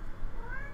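A house cat meows once during indoor game commentary, a short rising tonal call heard fairly close over a steady low background hum, with no talking over it.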